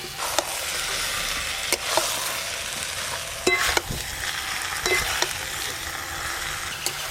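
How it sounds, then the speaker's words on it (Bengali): Fried potatoes and pointed gourd get stirred into sizzling cashew masala for potato-gourd dum, a loud continuous crackling fry with repeated scraping strokes of the spoon. "মশলা কষা হয়ে গেছে, ভেজে রাখা আলু পটলগুলো দিয়ে দেবো।"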